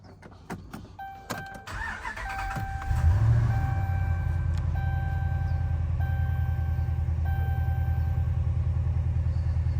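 A 2012 Dodge Ram 1500 with a cylinder 6 misfire cranks, fires up and settles into a steady, close idle hum after a few seconds of chimes and clicks.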